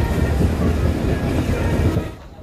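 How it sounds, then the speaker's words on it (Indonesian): A commuter train bound for Cikarang rolls along loudly and close, its steady rumble and wheel noise filling a few seconds before easing off at the end. "Dan ini keretanya sudah datang. Kereta ini menuju ke daerah Cikarang."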